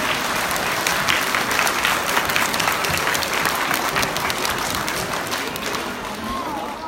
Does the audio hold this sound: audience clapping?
yes